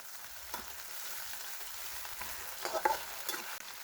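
Ginger dropped into onion and garlic frying in a pan for chicken curry, a soft continuous sizzle with a few brief stirring scrapes, close but quiet, no talk.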